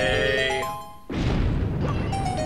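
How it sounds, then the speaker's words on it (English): A burst of explosions in the video game Four Swords Adventures cuts in after a short run of game music, a noisy crash that stays loud to the end alongside faint tonal game sounds. "Yes, blow them all up! Explosions for everyone!"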